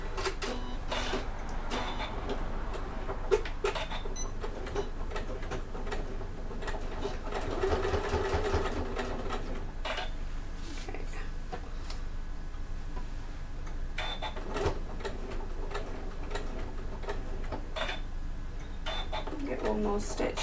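Sewing machine stitching a bag seam, a rapid mechanical whirring and ticking in short runs with pauses between, close by, while a person talks over it.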